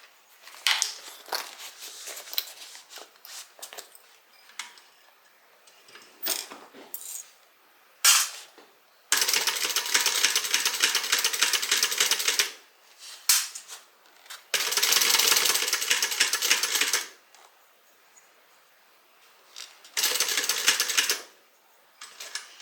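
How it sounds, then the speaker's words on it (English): A sewing machine stitches a sling bag, with bursts of fast rattling needle clatter of varying length. Between them come quieter handling clicks and rustles of fabric as the bag is adjusted. "you notice I'm stitching with the bottom against the bed of the machine"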